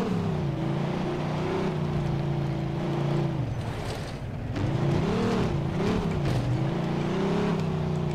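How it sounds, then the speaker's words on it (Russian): A loud car engine drones in the 2010 video game Mafia II, roaring steadily up close with wavering revs and a brief dip midway. "Какая же громкая тачка"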